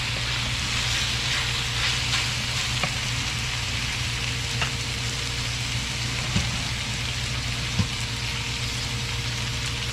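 Beef pares simmering and sizzling in a cooking pan as it is stirred, a steady close frying hiss with a few soft scraping clicks running the whole time.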